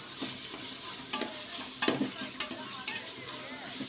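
Mushroom biryani masala stirred in a pan, with scraping strokes every half second or so over a low sizzle, close and fairly quiet.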